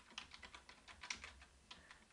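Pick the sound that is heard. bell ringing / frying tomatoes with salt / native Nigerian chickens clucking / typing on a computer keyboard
typing on a computer keyboard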